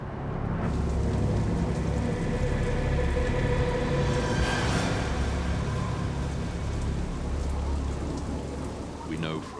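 Acid rain falling steadily over a scalded landscape, a loud continuous hiss of rain with a low rumble beneath and a brief swell near the middle.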